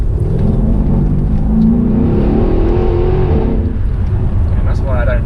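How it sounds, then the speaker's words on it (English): A 679bhp Mercedes E63 AMG drops through gears, its engine rumbling and blipping loudly in a deep, dense roar heard from inside the car, with voices talking over it. "Its downshifts are brutal as well"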